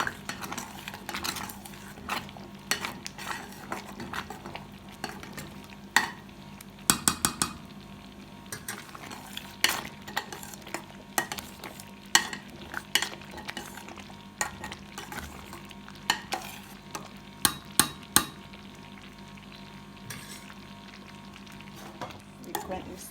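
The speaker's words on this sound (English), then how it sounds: "Frequently stirring your porridge, guys. You don't want it to stick at the bottom." Cornmeal porridge with coconut milk being stirred in a pot, with a spoon scraping and knocking at irregular intervals over a soft, steady bubbling bed, close and moderately quiet.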